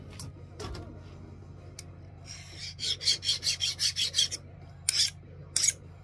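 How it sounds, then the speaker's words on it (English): A steel file is pushed in quick, rhythmic strokes across a hand-cut, case-hardened rasp, giving about a dozen close, bright scraping rasps in a fast run, followed by a couple of separate strokes after short pauses. "This file skates real nice on the file, rasp, whatever you want to call it, that I made"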